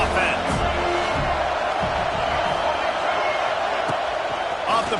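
Hostile college football stadium crowd in an NCAA football video game, a loud, constant roar of cheering and yelling with sharp thuds, while a commentator talks over it.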